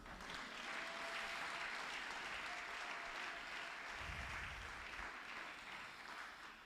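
A church congregation breaks into sustained, loud applause and cheering for Jesus, a dense wash of clapping that holds steady throughout with scattered voices mixed in.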